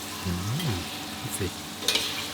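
Egg tofu frying in hot oil in a wok, a steady soft sizzle and crackle with a few brief scraping sounds, close and moderately loud.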